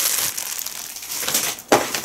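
A plastic bag from a tracksuit being crumpled and crushed, a continuous crinkling rustle with a sharper crackle near the end, heard alone.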